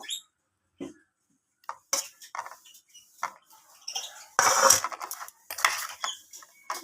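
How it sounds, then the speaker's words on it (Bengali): A spoon tosses fried cauliflower with spices in a pan, producing scattered scraping and clinking strokes between short silences, growing busier and louder toward the end. "ফুলকপিটাকে ভালোভাবে মশলার সাথে মিশিয়ে নিয়ে এইভাবে চামচের সাহায্যে ওলট পালট করে ভালোভাবে মিশিয়ে নেবো"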